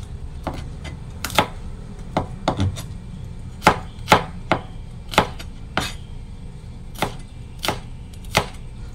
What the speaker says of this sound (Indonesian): Terus bawangnya cuma saya iris seperti ini saja teman-teman